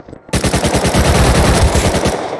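Automatic gunfire in the console edition of the video game Rust, a loud rapid burst of dozens of shots in a fast steady rhythm lasting about two seconds.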